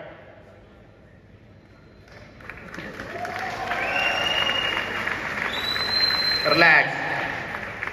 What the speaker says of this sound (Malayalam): എല്ലാരും കൈയടിച്ച് പ്രോത്സാഹിപ്പിക്കേ